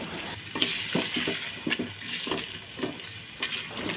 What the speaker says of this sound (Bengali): মশলার সাথে আমি কলিজা আর আলুটা মিশিয়ে নিচ্ছি